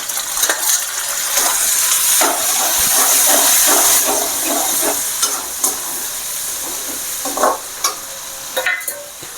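Tomatoes sauté in a pan for masala egg podimas, with a steady close sizzle and hiss under scattered scraping stirs of a spatula.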